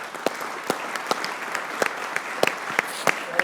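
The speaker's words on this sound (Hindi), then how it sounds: "अहमद भाई के लिए तालियां यार" A studio audience claps for cricketer Ahmed Shehzad on a talk show, with sparse, scattered claps and a murmuring room tone rather than a full ovation.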